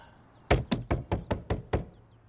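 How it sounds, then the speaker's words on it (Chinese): Seven sharp knocks rap on a door in an even, rapid sequence, close and loud, with no voices in between. "嘉诚， 嘉诚，我知道你在里面，开门。"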